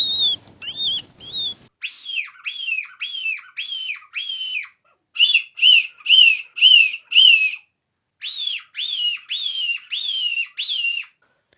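A brief recorded cry of a newborn hairless rabbit is followed by a rapid series of high, squealing blasts from a button predator-call whistle, coming in rhythmic bursts of four to six with short pauses between.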